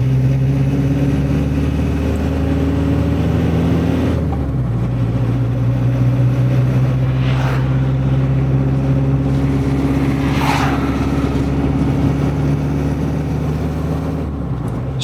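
A classic VW T3 camper van engine drones steadily as the van drives and accelerates on a road, with a continuous low rumble and gear shift around the midpoint, windows open, no talk.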